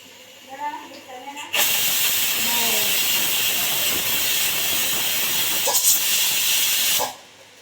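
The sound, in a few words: pressure cooker releasing steam, whistling hiss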